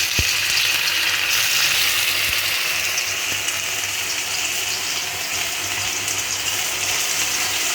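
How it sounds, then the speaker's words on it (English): Oil sizzles and crackles in a pan over medium heat for stir-fried honey chilli chicken, a steady close hiss with scattered pops and a few sharp clicks, no voices over it. "So I'm frying the oil"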